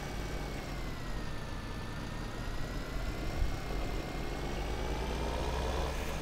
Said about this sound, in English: I just left my tractor running